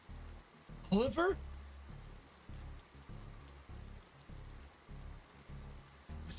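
Heavy rain pours down during a thunderstorm in the woods, a faint, steady patter with low rhythmic thumps and a brief sweeping tone near the start.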